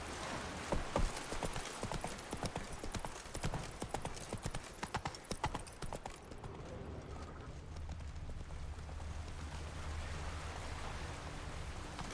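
Roach, the horse in The Witcher 3, gallops with rapid, loud hoofbeats for about six seconds, then the hooves fade and a softer rain-like ambient hiss carries on.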